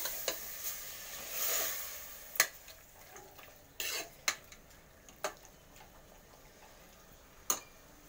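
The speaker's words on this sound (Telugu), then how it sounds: "అంతా మొత్తం ఒక దగ్గర కలిపేస్తుంది." A spoon stirs mutton curry in a metal pot, giving a handful of sharp, separate clanks and scrapes against the pot, with a soft sizzle underneath.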